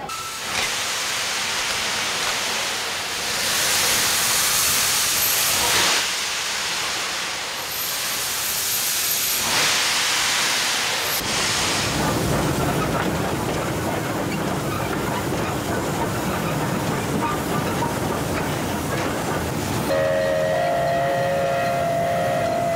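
Steam locomotive of the Pondicherry special in India, old and worn, on its final run: steady loud hissing and rolling rail noise throughout, with a brief tonal whistle-like note near the end.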